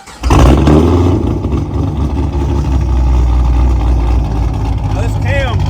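An LS-powered street car with an SLP Loudmouth exhaust, Lanati cam and cold air intake fires up and revs, a loud deep rumbling drone with a choppy idle, close by and sustained.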